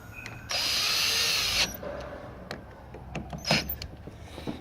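A power drill drives lock body screws back into an old lock on the double doors of an 1860s–70s historic building: one loud, steady whirring burst lasting about a second, then faint clicks and taps of handling.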